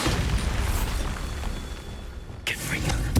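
A Bombarda blasting spell explodes in the video game Hogwarts Legacy, a loud rumbling burst followed by a crackling sharp blast near the end, amid dense game noise.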